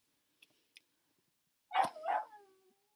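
Dog barking indoors, two faint clicks followed by a single close, loud bark that trails into a whine.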